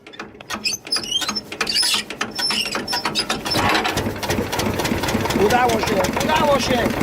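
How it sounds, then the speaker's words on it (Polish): A small garden tractor engine is cranked with a pull starter: a few rapid ratcheting pulls and clicks, then the motor catches and settles into a close, steady running chatter. "Ta cudowna maszyna pali! Rozrusznik wyjściowy zadziałał!"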